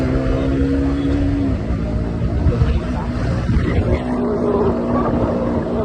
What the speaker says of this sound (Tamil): வண்டியோட எக்ஸாஸ்ட் நோட் காட்டுறேன் பாருங்க